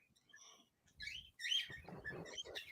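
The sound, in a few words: birds chirping outdoors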